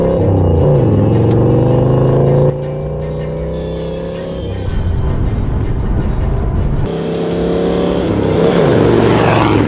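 A 1979 manual-transmission off-road rig launches hard from a standstill, its engine roaring loud and close with rising revs, then dipping at each gear change before climbing again.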